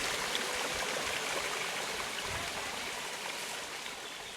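A perennial stream near Apoyo Lake in Nicaragua flows over rocks with a steady, close, bubbling rush, a continuous hiss of moving water that fades slightly toward the end.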